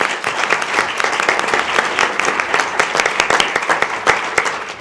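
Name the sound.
audience applause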